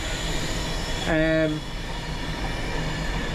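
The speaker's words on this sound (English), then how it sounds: "That's a cement train for the cement works." Low rumble of a passing cement freight train bound for a cement works, with a brief metallic squeal of wheels, steady and fairly close, no voices.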